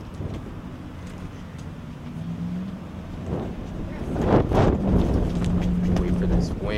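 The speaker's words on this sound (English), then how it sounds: "Wait for this wind to die out a second." Outdoor wind buffeting a microphone, a rumbling low roar with gusts that swell louder toward the end, heard behind people talking.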